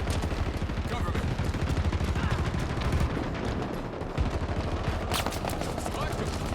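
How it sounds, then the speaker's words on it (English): Rapid, sustained automatic gunfire from Halo Infinite rattles continuously with dense bursts and an occasional louder blast, heavy and close throughout. "Taking fire. Grenade out."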